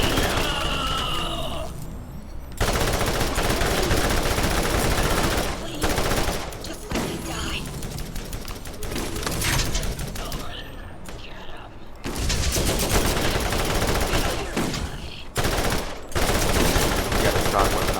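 Shock weapon gunfire in the Borderlands video game, dense rapid bursts of automatic shots crackling loudly in long stretches, broken by brief pauses and a few quieter gaps.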